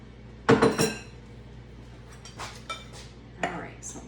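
Clinking and scraping as shredded mozzarella is stirred into a flour mixture in a bowl for savory breakfast cookies, with a loud cluster of clinks early on, then softer scattered taps.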